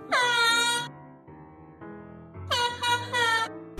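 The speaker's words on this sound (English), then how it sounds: "we got air horns on our gators that scare them" Loud blasts of an air horn mounted on a utility gator vehicle, used to scare Canada geese: one long honk, a quieter lower stretch, then a cluster of short repeated blasts close by.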